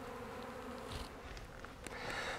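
Agitated honey bees fill the air over an apiary just after a swarm was shaken down, a steady dense buzzing hum with a few nearer passes rising briefly louder.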